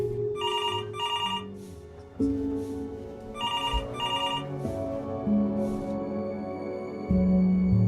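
An electronic telephone rings in the video game Before Your Eyes, repeating double trill bursts over a steady droning musical score.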